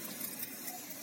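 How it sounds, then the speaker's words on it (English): Water is poured into a pot of loosened soil, a soft, steady trickle heard faintly and close by for about a second. "I have added water, enough water to this."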